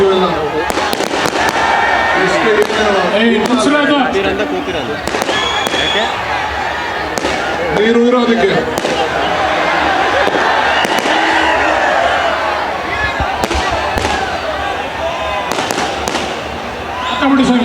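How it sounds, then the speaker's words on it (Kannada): Firecrackers bursting at the Karaga festival, loud sharp pops scattered through a dense, noisy crowd, with people talking and shouting over the din. "ಈ ಪಟಾಕಿ ನನಗೆ ಬೇಕಾಗಿಲ್ಲ"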